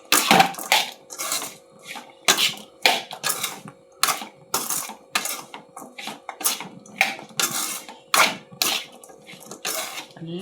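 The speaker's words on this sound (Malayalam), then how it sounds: "നല്ലവണ്ണം ഇളക്കി കൊടുക്കാം അല്ലേ." Spoon scraping and stirring chili powder into a mixture in a pot, a steady run of short gritty strokes repeating roughly every half second, close and fairly loud, with a faint background hum.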